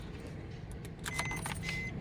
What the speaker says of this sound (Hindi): गाड़ी का इंजन स्टार्ट कर रहा हूं मैं